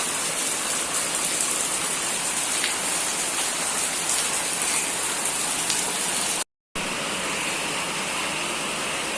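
Steady, dense rain hisses continuously on a surface nearby, loud and unbroken apart from a brief dropout.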